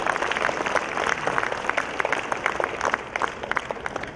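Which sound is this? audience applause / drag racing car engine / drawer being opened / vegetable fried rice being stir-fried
audience applause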